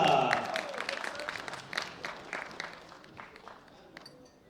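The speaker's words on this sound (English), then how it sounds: "A big round of applause for Zanasl Kabidula." Audience applause at a world bench press championship for a silver medalist from Kazakhstan, starting loud and dense then thinning into scattered claps that fade over a few seconds.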